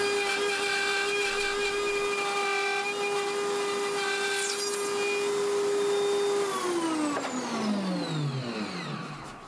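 A router cuts notches in a wooden shelf pin jig piece, its motor holding a loud, steady high whine before spinning down with a falling pitch near the end.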